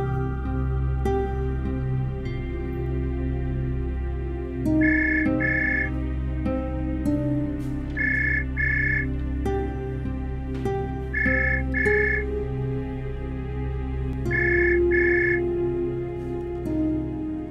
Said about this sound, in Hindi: अंजी को फोन करती हूँ।